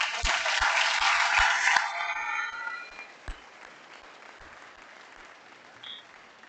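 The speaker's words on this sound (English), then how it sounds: "Round of applause to Luke." A short burst of applause from a modest crowd at a school assembly, clapping for a couple of seconds before fading into quiet room tone.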